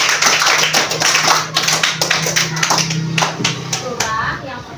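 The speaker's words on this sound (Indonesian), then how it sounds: "Tepuk tangan dulu untuk teman" Classmates in a school classroom clap for a student's answer in uneven bursts over a few seconds, with voices heard alongside.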